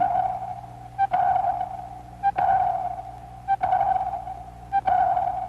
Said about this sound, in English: Sonar, ASDIC as the British call it, sends a sound wave into the depths, searching for a return echo from the enemy.